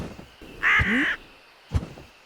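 A crow caws in a Hindi cartoon, one loud harsh call near the middle followed by a brief softer sound, with no voices heard.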